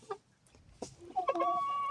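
Seven-month-old young chickens, a Legorin Adler breed kept at home, give a few short clucks followed by a sustained higher call, close by and alone.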